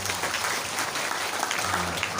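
Steady applause from a crowd at an Islamic boarding school zikir gathering, dense continuous clapping at an even level throughout, with no voices standing out.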